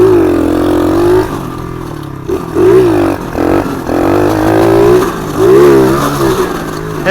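A cheap pit bike rides around a yard, its small single-cylinder engine buzzing loud and close, revving up and easing off in repeated surges with throttle blips throughout.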